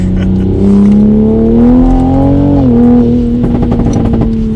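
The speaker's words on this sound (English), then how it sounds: "we'll do sport mode just to get that downpipe sound" A straight-piped, tuned Toyota Supra exhaust in sport mode revving up loudly with a rising growl, easing off, then settling into a rumbling idle with crackles.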